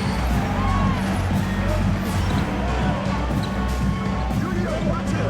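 Arena crowd in an NBA 2K25 basketball game keeps up a dense, steady roar and hubbub throughout, with a commentator talking over it.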